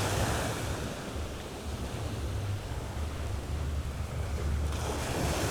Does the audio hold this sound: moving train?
no